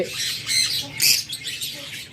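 A pair of high-mutation opaline budgerigars squawk loudly and repeatedly, with harsh bursts and chatter following one another close to the listener and no talk over them.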